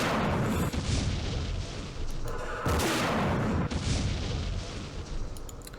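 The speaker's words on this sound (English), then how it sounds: "Let's utilize this recoilless rifle." Recoilless rifle fire in the war video game Campaign Series Middle East: loud, dense booming blasts in repeated bursts across the whole stretch, heavy and continuous with short breaks between volleys.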